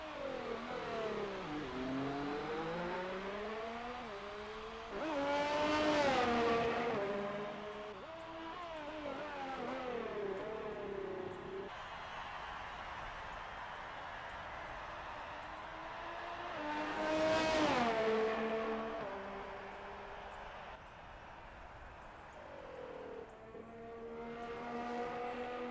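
Ferrari race car lapping the Bahrain Grand Prix circuit in a racing game, engine note climbing and dropping through gear shifts, with two loud close pass-by surges and a steady mid-distance whine between them.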